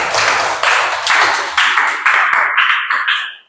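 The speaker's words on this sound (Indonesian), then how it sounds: "terima kasih, tepuk tangan" Students in a high school classroom clapping their hands, a series of sharp rhythmic bursts close by that thin out and fade toward the end, with no talking.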